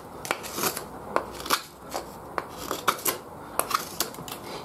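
A RAS SteelClaw knife cutting in a hammer grip gives a quick run of sharp, close slicing and scraping strokes, about a dozen crisp bursts in an uneven rhythm with no talk.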